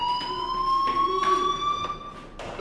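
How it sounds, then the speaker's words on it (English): A fire alarm in the video game Life Is Strange sounds steadily, a continuous electronic tone with faint pulsing, heard alone without voices. "do you hear that fire alarm?"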